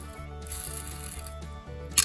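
Crankshaft bearings from a Suzuki SMX 50 engine, turned by hand, produce a close mechanical whirring with a regular ratchet-like pulse and a small click near the end.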